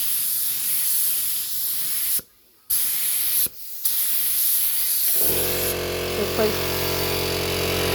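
Loud, steady hiss of a spray gun laying down 2K primer, broken by two short pauses, with an air compressor droning underneath and kicking into a heavier mechanical hum partway through.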